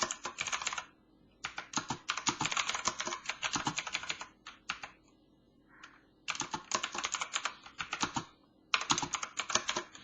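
Rapid bursts of clicking keystrokes on a computer keyboard while code is typed, loud and close, in several runs separated by short pauses, with no voices.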